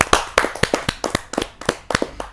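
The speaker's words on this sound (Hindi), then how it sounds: "जरा जोरदार तालियों के साथ हम उनका स्वागत करें।" A few distinct hand claps at a Hindi poetry gathering (kavi sammelan) as a poet is welcomed, sparse and uneven sharp slaps rather than a full crowd roar, with no talking.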